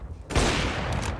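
Gunfire from Counter-Strike: Global Offensive in a pro match, Akuma vs Gambit at StarLadder CIS RMR 2021; a sharp loud burst of shots erupts after a brief lull and rings on as a dense rattle.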